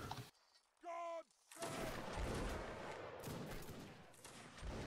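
A musket volley fired in the video game Mount & Blade: Warband, a broad burst of crackling gunfire that rolls on for several seconds after a short tonal cue, with shouted commands around it.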